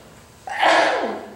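A single sharp sneeze bursts out during a classroom accounting lecture, rising suddenly and trailing off over about a second, fairly loud and close.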